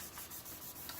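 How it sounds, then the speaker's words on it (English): Short bursts of sandpaper rubbing back and forth across a painted panel, soft and close, in a quick scratchy rhythm. "Just kind of pick a spot and start sanding."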